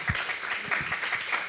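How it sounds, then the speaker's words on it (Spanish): A church congregation claps for visiting guests during a Spanish-language worship service, a short burst of moderate, steady applause that fills the room briefly. "Un aplauso para ellos."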